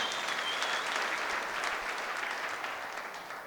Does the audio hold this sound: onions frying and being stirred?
no